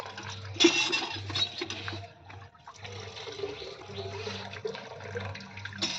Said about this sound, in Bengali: বাবা আমার ময়ূর তো অনেক জল টানতে পারে।